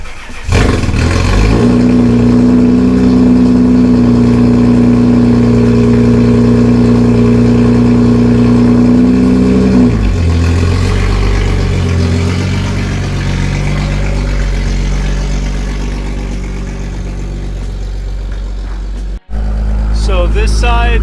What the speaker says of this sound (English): let me drive this off the blocks and get it out there